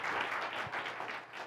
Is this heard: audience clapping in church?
yes